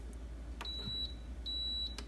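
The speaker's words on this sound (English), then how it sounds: "make sure you're going to hear the beep." A Breville Barista Express espresso machine gives two short, clear electronic beeps about a second apart, close by over a faint steady hum, with no talking.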